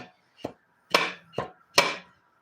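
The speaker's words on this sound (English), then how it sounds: "To grab that plastic hammer" Five sharp plastic hammer strikes at an uneven pace, each a crisp knock that decays quickly, close by with silence between hits.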